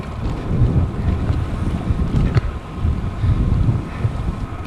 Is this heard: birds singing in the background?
no